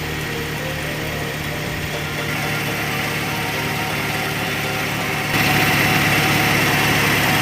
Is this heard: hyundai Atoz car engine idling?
yes